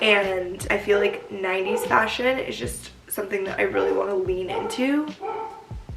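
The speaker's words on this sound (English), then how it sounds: "I'm at my grandma's house and the dogs are barking" Several dogs barking and yipping at a grandmother's house, with high excited barks and whimpers running continuously under a woman's steady speech close by.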